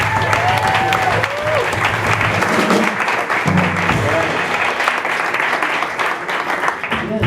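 Jazz concert audience at a community firehouse venue applauds a newly introduced singer, steady loud clapping filling the room for several seconds with some crowd murmur beneath.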